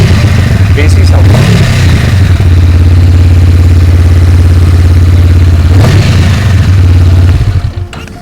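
A motorcycle engine idles loud and close with a steady, deep thumping beat, a couple of brief blips along the way, before the sound dies away at the end.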